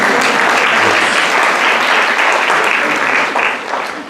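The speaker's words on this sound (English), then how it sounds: "Applause for my father." Lecture audience at an institutional conference breaking into loud, dense applause, a continuous roar of many hands that holds steady and fades slightly at the end.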